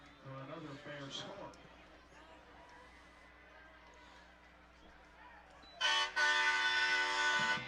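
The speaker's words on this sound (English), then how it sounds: "A little bit late there, guys, on the air horn." An air horn sounds at a high school football game, a loud sustained blast that bursts in near the end after crowd noise and announcer talk.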